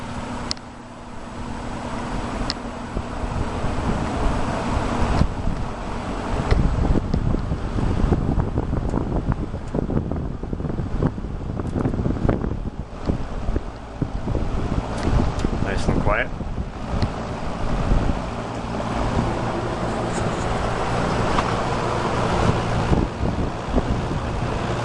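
A vintage box fan with plastic blades runs on medium speed, giving a loud, steady rushing of airflow that continues throughout with slight fluctuations in strength.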